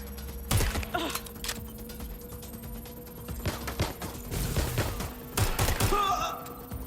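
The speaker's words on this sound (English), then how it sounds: "Suspect has opened fire." A suspect firing a gun in the video game Watch Dogs: Legion: several sharp, scattered shots and thuds over a low hum, some close together in quick bursts.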